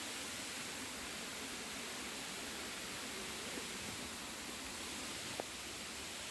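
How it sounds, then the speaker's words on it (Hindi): Steady broadband rush of a waterfall near Keshkal hill station in dense green forest, constant and even throughout with no breaks, heard from a moderate distance. "तो तो ये वाटरफॉल है संगवारी हो"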